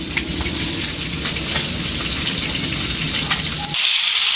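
Fish frying in hot oil: dense, steady crackling and sizzling with spattering and scattered sharper pops, close and continuous until it cuts off near the end.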